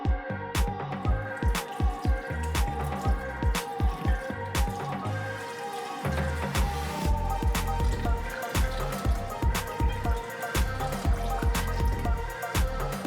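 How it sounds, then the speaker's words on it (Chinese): Water splashes and trickles over blanched pig's feet as they are rinsed, giving a steady run of close drips and splatters with short breaks. "煮开以后，捞出来再清洗一下"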